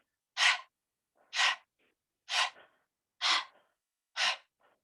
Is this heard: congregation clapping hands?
no